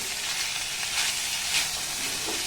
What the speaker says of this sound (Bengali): পনিরটা দেওয়ার পর এখানে আমি আর একবার একটু ভালোভাবে নাড়াচাড়া করে ভেজে নেব এটাকে